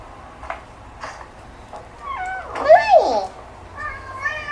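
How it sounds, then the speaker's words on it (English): A cat meows outside a house, one drawn-out rising-and-falling meow followed by a shorter, softer one, close by over quiet background noise. "Beautiful cat."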